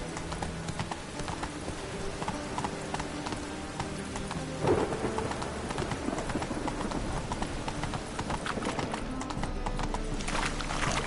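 Video game horse galloping through a rainstorm, steady rhythmic hoofbeats under a constant wash of rain with occasional rumbles of thunder, close and continuous, no talking.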